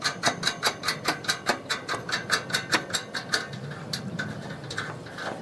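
A hand ratchet tightens a nut on a metal cross brace, giving a fast, even run of close, crisp clicks that slow and thin out toward the end.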